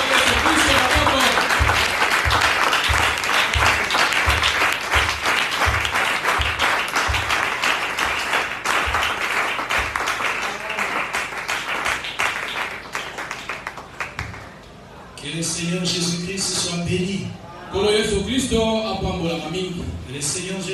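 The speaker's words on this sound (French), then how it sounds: "Nous acclamons le Seigneur Jésus-Christ." A church congregation applauds loudly and steadily for about fifteen seconds, then the clapping fades as someone speaks over lingering applause.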